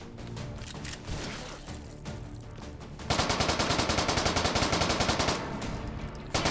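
Video game gunfire: a steady patter of shots, then from about three seconds a loud, rapid automatic burst of evenly spaced rounds that runs almost continuously to the end, with no talking.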